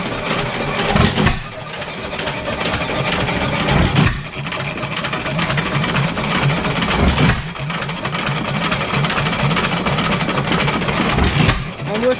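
A 7HP Stickney hit-and-miss engine runs at about 300 RPM, giving a loud, continuous mechanical chug with periodic heavier thumps, heard close up outdoors under a constant roar.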